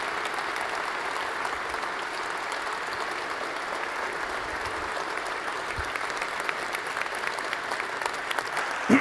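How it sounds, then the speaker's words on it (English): A large audience applauds a keynote address by U.S. Secretary of Defense James Mattis at the Reagan National forum, dense sustained clapping filling the hall, loud and even, without speech. "We'll see if you still clap when I get done talking here"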